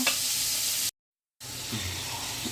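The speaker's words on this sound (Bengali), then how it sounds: "পেঁয়াজটা দিয়ে দিলাম মশলা দিয়ে দিলাম বাটা মরিচ একটু রসুন বাটা জিরা বাটা আমি সব কষাই নেব" Onion with pastes of chili, garlic and cumin fries in a pan for a tilapia curry, a close, steady sizzle broken by a half-second drop to silence before resuming.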